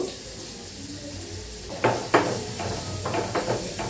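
Finely chopped onion going into a hot pan, a soft steady sizzle with a few sharp clinks and scrapes of utensils against the pan, close by and without talk.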